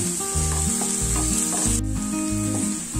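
Onions sautéing in a pan for stuffed capsicum give off a steady, close frying sizzle that runs the whole time, with a soft stirring break near the middle and low background music throughout.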